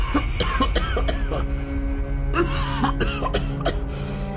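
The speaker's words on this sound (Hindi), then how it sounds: "वो जोर जोर से खांसने लगता है।" A person coughs hard and repeatedly in close, loud bursts, a rapid fit of hacking coughs with short gasps between.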